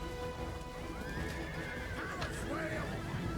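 Sarmatian horse archers in the Total War Rome 2 video game, with a horse neighing and whinnying amid the clatter of hooves and general battle din, while a voice talks faintly underneath.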